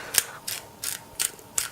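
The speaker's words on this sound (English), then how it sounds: "I buy these, the McCormick's peppercorn medley grinders, which is like 6 different kinds of freaking peppercorns in here, and set it to medium coarse" McCormick peppercorn medley grinder set to medium coarse, twisted close up in five quick ratcheting crunches at an even rhythm.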